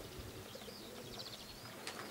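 Racing pigeons returning and landing at a loft flutter and coo softly in an open outdoor space, with a brief burst of wingbeats near the end, fairly faint.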